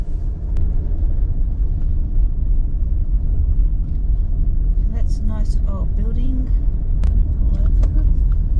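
A car drives through the country town of Boorowa with a steady, low engine and road rumble throughout, and a person talks briefly over it partway through.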